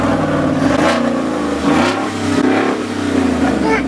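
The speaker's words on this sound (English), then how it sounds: "Alright, we're starting it up without the muffler." 2016 Ford F150 5.0 V8 with a Corsa exhaust and the muffler removed, revved hard in several loud, rising-and-falling blips, deep and close, with voices faintly audible underneath.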